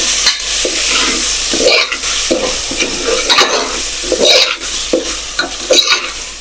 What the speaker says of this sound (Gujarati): તો આપણે તેમાં ટમેટા અને મરચાં નાખી દઈશું ટમેટાં મરચાંને આપણે બહુ નહીં ચડાવીએ થોડી વાર ચડાવશું